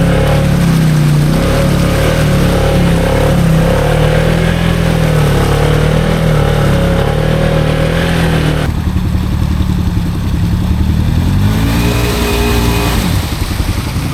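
Engines of a Can-Am Maverick XMR Sport side-by-side and an Outlander 700 ATV run in four-wheel drive through muddy ruts, with a loud, close, sustained drone that shifts pitch midway, then revs and climbs again.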